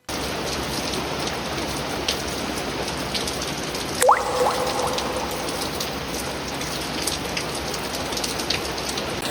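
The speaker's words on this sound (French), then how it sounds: "il pleut pas mal aujourd'hui" Heavy rain falls steadily outdoors, a dense, even hiss of drops that stays loud and unbroken, with one brief squeak partway through.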